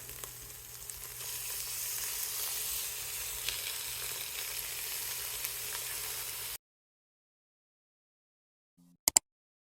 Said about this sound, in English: let's add in the ground beef